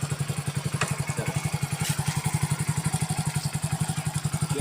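A learner's motorcycle idles while propped up on its stand, its engine putting out a steady, even chug of closely spaced low thumps at close range with no talking.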